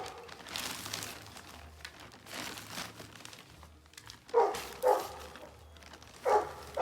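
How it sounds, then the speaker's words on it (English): Gus the dog barks outdoors in a rose garden, a few short sharp woofs near the end after quieter rustling and crinkling. "No need to bark."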